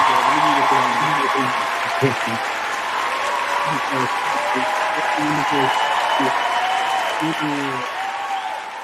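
Steady applause from an audience on a virtual radio interview show keeps going throughout, a constant wash of clapping beneath a voice talking over it.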